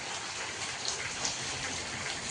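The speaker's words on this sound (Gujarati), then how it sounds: "હજી પણ અત્યારે વરસાદ ફૂલ આવે છે" Steady, dense hiss of heavy rain pouring down in Palitana, Gujarat, a constant wash of noise without pauses or voices.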